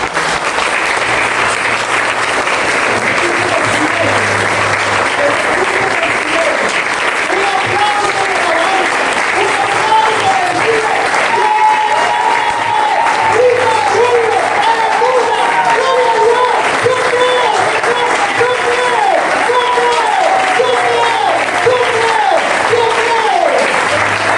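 A church congregation claps in a sustained, even roar of applause, with a voice speaking or singing over it in the middle stretch.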